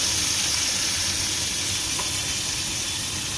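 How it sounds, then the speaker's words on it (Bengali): Capsicum and tomato frying in a pan with salt and ground spices for paneer capsicum, a dense, constant hissing sizzle heard up close and alone for the whole stretch. "ক্যাপসিকাম আর টমেটো ভাজা হয়ে গেছে। এবার এর মধ্যে দিয়ে দেবো 1 চামচ লবণ আর বেটে রাখা সমস্ত"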